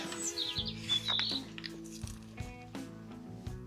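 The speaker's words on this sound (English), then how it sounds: "such a small bird, but such a loud voice" A small bird sings loud, high chirping phrases in a garden in early spring, near and clear at first before fading behind soft rustling and patter.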